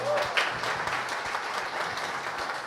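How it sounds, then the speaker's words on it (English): Audience clapping at a live-streamed company event, a continuous wash of applause at moderate level, fairly even throughout with scattered sharper claps. "Clap for him, please."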